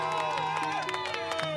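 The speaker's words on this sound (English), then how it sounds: "Friends and family of the victim cheering," Friends and family celebrate after a court verdict, a dense, close mass of cheering, shouting and whooping voices with some scattered clapping, steady and loud throughout the short stretch.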